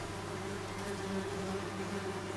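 Wasps buzz close by at a nest, a steady, dense drone that holds without a break and with no voices over it.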